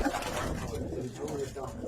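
Pigeons coo softly in Baghdad during a bird sale, low throaty calls repeating close by beneath someone talking.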